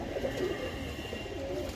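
Soft cooing of a paired female pigeon kept by a fancier, a steady low murmur lasting under two seconds against a constant background hum, with no talking.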